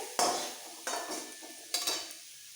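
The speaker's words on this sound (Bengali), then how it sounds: "বাঁধাকপি ভাজতে ভাজতে একদম ঝরঝরে হয়ে গেছে এক্সট্রা জলটা টেনে গেছে" Cabbage frying in a wok until dry gets stirred in three distinct scraping sweeps, each a brief metallic rasp over a faint, steady sizzle, close and fairly quiet.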